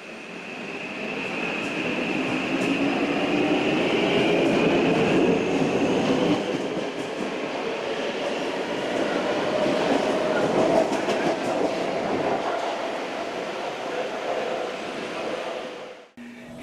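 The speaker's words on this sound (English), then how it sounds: "here's a caboose ride from the rear window of an MRT running underground" Autonomous Singapore MRT subway train running through an underground tunnel, heard from the rear window: a steady, loud rumble and roar of wheels on rail with a sustained high whine, easing slightly toward the end.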